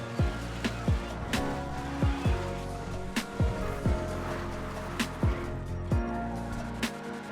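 A car in GTA V, held in a wheelie by repeated handbrake taps, revs hard in a loud, steady engine drone. It is broken by regular sharp rising surges about every second, with occasional tire squeal.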